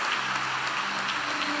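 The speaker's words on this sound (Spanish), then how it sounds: "Dame un aplauso al Señor." Steady applause from a church congregation, a dense continuous patter of many hands clapping at moderate level without a break, and no voices heard over it.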